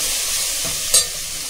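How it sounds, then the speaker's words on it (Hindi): Ginger and garlic sizzle softly in a hot pan, with a brief scrape of stirring partway through. "अभी अदरक लहसुन हमने लिए ना, वो डालें, इसको भूनेंगे।"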